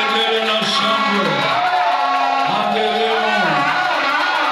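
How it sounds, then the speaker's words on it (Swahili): Worshippers in a church service cheer and ululate together, high wavering trills and whoops rising and falling over a loud, continuous crowd roar. "Vigelegele na shangwe."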